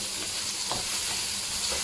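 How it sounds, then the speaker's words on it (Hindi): Garlic and tomato masala frying in a pan, a steady, close sizzle with faint stirring scrapes running throughout. "और अब मैं इसे फ्राई कर लूँगी, भून लूँगी, ताकि इस लहसुन की स्मेल भी ख़त्म हो जाए और टमाटर भी सॉफ्ट हो जाए"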